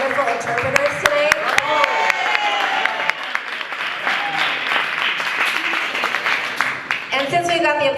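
A crowd at an awards ceremony keeps applauding, steady clapping running throughout with some louder individual claps. Voices and chatter rise over the applause near the end.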